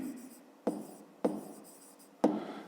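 Pen or pencil writing a maths solution on paper, three short scratchy strokes spaced apart with quiet pauses between, close and faint.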